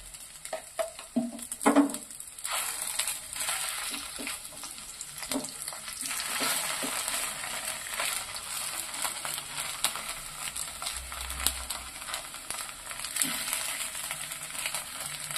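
Steady sizzling of sooji dudh puli frying in hot ghee, with occasional scraping and stirring sounds from a utensil turning it in the pan, close and continuous.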